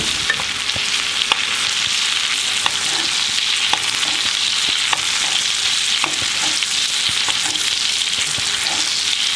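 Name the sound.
basting steak with butter in cast iron frying pan, sizzling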